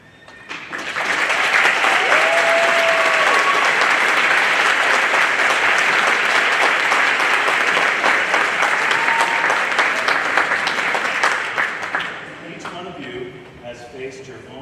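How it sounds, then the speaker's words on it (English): Sustained, loud applause from a crowd at a 2023 high school graduation ceremony for the graduating seniors, swelling quickly and holding steady for about eleven seconds before fading, with a few voices audible near the end. "I want to take a moment to acknowledge and applaud you all"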